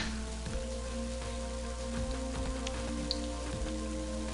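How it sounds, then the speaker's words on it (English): Rain in the video game Mother 3 hisses steadily as a dense, constant patter over a low background hum, with no speech. "Brr, that's cold rain. I don't like it. It doesn't seem like it's ever going to stop."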